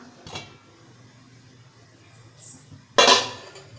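A metal lid lifted off an idli steamer pot gives a single loud clank with a brief rattle near the end, after a softer earlier clink and quiet background.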